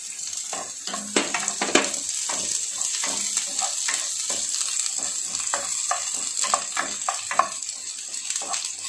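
Onion sautés in a pan with garlic, a steady bright sizzle under repeated clicks and scrapes of stirring, close and fairly loud throughout.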